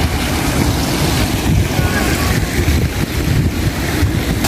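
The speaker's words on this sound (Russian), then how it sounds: "Вот он, знаменитый ростовский водопад на Парамонских садах." Waterfall at the Paramonov warehouses in Rostov-on-Don, a steady loud rush of falling water with a broad roaring wash that continues unbroken and close throughout.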